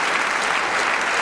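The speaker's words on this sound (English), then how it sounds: "a round of applause for Paddy" A studio audience at a parish quiz show claps in a dense, even burst, close and loud throughout the short moment.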